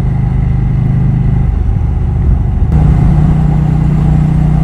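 A KTM 790 Duke motorcycle's engine runs close and loud, a steady droning growl that shifts pitch slightly as it holds revs, with wind noise and no talking.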